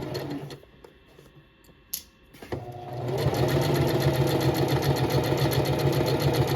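A sewing machine stitches a slouchy tote bag, starting after some quiet handling and a sharp click, then running in a steady, fast, even mechanical whir that stays loud to the end.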